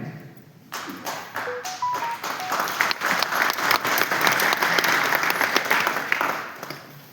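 Audience applause bursts in at a Hindi public speaking event and keeps up as a steady, dense clatter of many hands, with a few scattered louder claps.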